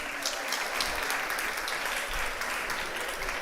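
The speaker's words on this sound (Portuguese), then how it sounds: "Vamos recebê-lo com uma salva de palmas." An audience at an international congress on aging applauds a speaker coming up to the stage, a moderate, steady round of clapping heard from a distance in a large hall.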